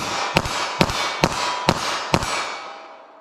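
Five sharp gunshots from a snub-nose revolver firing .32 H&R Magnum semi-wadcutter rounds, spaced evenly about half a second apart, each loud crack leaving a brief ringing tail that fades out at the end.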